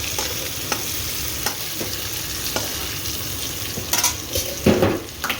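Black cumin (kalonji) tempering sizzles in hot oil beside frying potatoes, a loud, continuous crackle with occasional sharper pops and stirring clatter near the end.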